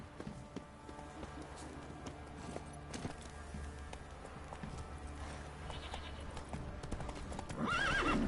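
A horse in The Witcher 3 plods with steady clip-clop hooves under a low ambient bed, then lets out a loud, close neigh at the end.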